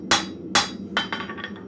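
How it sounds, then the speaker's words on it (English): A blacksmith strikes a forged steel shelf bracket with the flat face of a hammer, two loud ringing blows followed by a quicker run of lighter taps and bounces on the anvil, close and alone. "I'm going to just take my flat side of my hammer and just clench that up a little bit."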